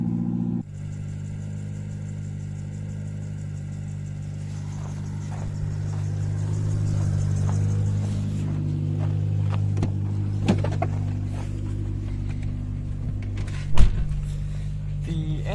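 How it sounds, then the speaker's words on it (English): A first-generation Renault Scenic idles with a loud, low exhaust drone that swells steadily, engine itself quiet beneath the exhaust, with a few clunks and a sharp knock near the end. "Engine is actually pretty quiet, but the exhaust just makes it loud."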